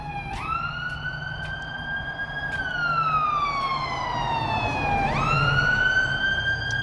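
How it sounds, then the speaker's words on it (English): Emergency vehicle siren on a city street in the North End, a loud rising and falling wail sweeping up twice as it passes, over steady street background noise. "Some emergency vehicles coming down Gottingen."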